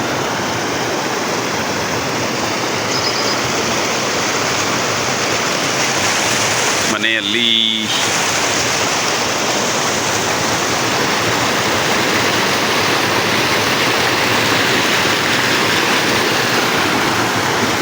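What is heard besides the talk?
rushing water in fields after heavy rain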